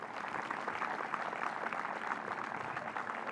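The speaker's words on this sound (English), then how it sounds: "A round of applause, please." A crowd applauds at the Helsingborg launch of the all-electric STCC touring car series and the PVR 002 concept car, a dense, even wash of clapping sustained throughout at moderate distance.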